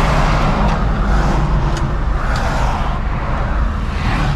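A Suzuki Carry pulls a U-turn in first gear, its engine and road noise forming a close, steady drone the whole time with no talking.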